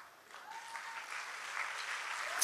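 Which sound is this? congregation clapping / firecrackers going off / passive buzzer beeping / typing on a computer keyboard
congregation clapping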